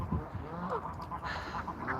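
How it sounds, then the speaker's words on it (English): Geese and seagulls outdoors, with brief close honks and squawky calls over a murky ambient background. "Have some nice shots of some geese and some seagulls."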